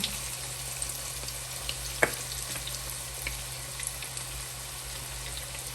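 Pork liver coated in batter fries in hot oil, with a steady close sizzle and crackle throughout and one sharper pop partway through.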